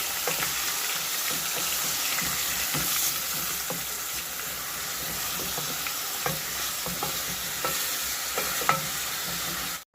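Chicken frying in a pan with onion and garlic added, a steady loud sizzle running throughout with scattered stirring scrapes and small pops, no voices.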